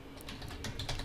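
Someone types text on a computer keyboard, producing a quick run of light, irregular keystroke clicks, fairly faint and close, with no talking.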